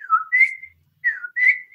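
A person whistles an imitation of the Puerto Rican coqui frog's call: two clear two-note 'co-qui' phrases, each a short dip followed by a higher held note, close and alone.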